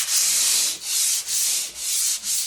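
Drywall joint compound being hand-sanded on a tub surround, in steady back-and-forth strokes, about five even passes of close, loud, hissing abrasion with brief pauses between them.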